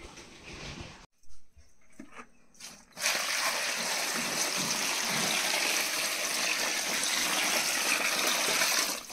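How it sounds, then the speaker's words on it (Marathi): Water pours into a tub to wash wild Konkan rovana mushrooms caked with soil. A few brief splashes come first, then a steady, close gushing pour runs on. "पाणी ओतून त्यांना मस्तपैकी धुवून काढतो आधी"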